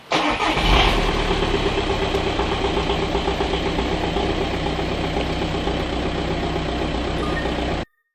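A car engine cranks and catches, then runs at a loud, steady idle close by before cutting off abruptly.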